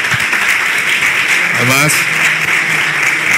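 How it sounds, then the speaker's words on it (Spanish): An audience at a streamed talk on managing social media with Hootsuite gives speaker David a loud, dense round of applause, sustained throughout, with a voice briefly speaking over it. "Vamos a dar un gran aplauso a David"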